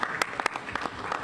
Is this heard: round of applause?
yes